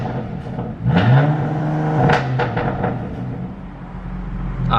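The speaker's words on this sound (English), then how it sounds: "Might as well give you guys some exhaust baby revs since I'm in their parking garage." A car with an equal length mid pipe exhaust revs in an enclosed parking garage, with a few short blips rising and falling and a steady rumbling idle between them, echoing off the concrete.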